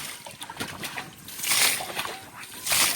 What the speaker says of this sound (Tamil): தண்ணி இறச்சி மீன் பிடிக்கிறோம்.